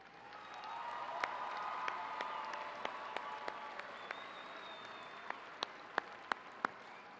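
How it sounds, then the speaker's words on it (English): Commencement audience applauding a community college orchestra, a faint, distant wash of clapping across a large hall, with a few sharper nearby claps standing out toward the end. "Please join me in a round of applause for Dr. Jeffrey Meyer and the El Paso Commun"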